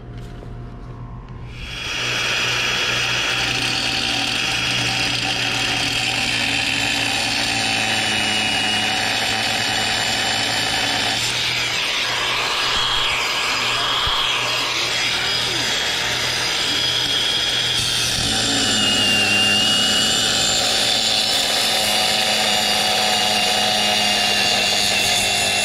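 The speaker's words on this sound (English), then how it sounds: "So now I gotta grind the shaft off." A power grinder cuts through the shaft of a condenser fan motor on an air conditioning unit, a steady loud whine that goes on for over twenty seconds, changing pitch midway as the disc bites into the metal.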